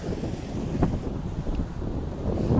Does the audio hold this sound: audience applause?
no